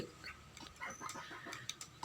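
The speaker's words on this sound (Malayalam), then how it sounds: "ഇതാണ് എൻ്റെ കൈരളി കോഴിയുടെ കുട്ടികൾ" Young Kairali chicken chicks making soft, scattered chirps and clucks at close range, quiet and intermittent over low background noise.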